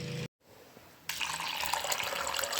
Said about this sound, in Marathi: चला हे धुवून घेतलं 2दा आणि आता भिजत घालत आहे